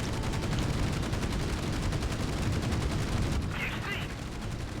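Anti-aircraft flak in Battlestations: Pacific pounds continuously in a dense, loud, rapid rhythm of gunfire filling the whole stretch, with no pause between shots.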